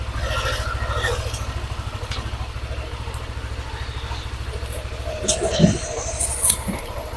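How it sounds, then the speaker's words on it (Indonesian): A Yamaha NMAX scooter engine running while hot gives a steady low drone with a fast rattling ticking, close by, while people talk over it and louder knocks break in near the end. "teman-teman bisa dengarkan untuk suara motor ini ya"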